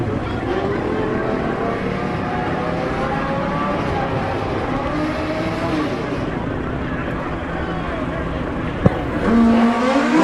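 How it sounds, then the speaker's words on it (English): A Suzuki GS-powered drag racing motorcycle roars loudly and continuously down the racetrack at the 2019 Mancup World Finals, its engine pitch climbing in sweeping harmonics, with crowd and announcer noise underneath. "Ricky Gadsden from Atlanta, Georgia, aboard some Suzuki GS Power, Summit Racing side of the racetrack."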